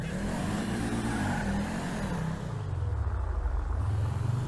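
A Toyota Vitz drives in GTA 5, its engine rumbling steadily and close, with the pitch sliding down and then climbing again as it revs, heard alone without talk.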